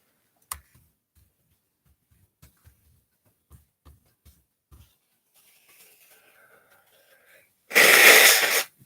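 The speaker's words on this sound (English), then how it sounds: "forgive me for blowing my nose" A loud, brief honk of a nose being blown comes near the end, after scattered faint clicks and ticks in a quiet room.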